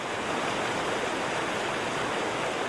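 A mountain stream pours over a waterfall beneath an old Roman bridge, making a dense, steady roar of rushing water with no pauses and no voices.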